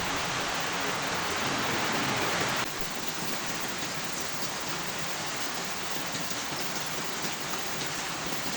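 Heavy rain pours down in a dense, constant hiss, dropping slightly in level partway through and continuing steadily.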